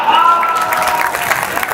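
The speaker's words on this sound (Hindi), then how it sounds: "आप लोगों की तालियां उठी" Audience at a Hindi comedy poetry show clapping in a brief dense burst of applause, close and fairly loud, with a voice talking over it.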